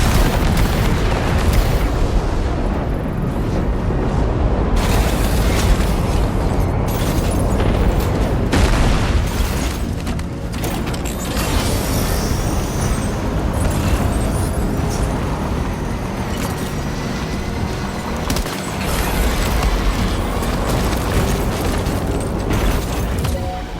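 Weapons fire and explosions in Death Stranding 2 come as a dense, constant barrage of booms and bursts, loud and near, holding steady for the whole stretch.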